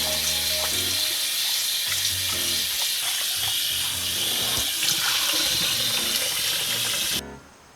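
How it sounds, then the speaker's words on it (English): Cold tap water runs steadily while bok choy is rinsed by hand for a Korean stir-fry, a continuous loud splashing hiss that cuts off abruptly near the end. "just run in cold water and rinse it a couple of times"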